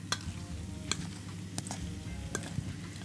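Rice salad ingredients are stirred in a bowl with soft scraping and light clinks of the utensil. There are a few sharper taps against the sides. The sound is quiet and close, with no talking.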